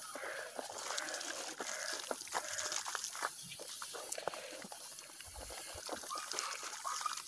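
Strongly flowing river water rushes steadily close by, with scattered splashes and knocks over the constant wash.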